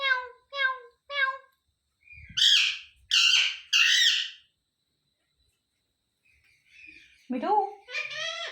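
A pet parrot named Mitthu gives three short rhythmic calls, then loud harsh squawks, and after a pause a rising call and more squawks, close and clear; a person's voice briefly joins near the end.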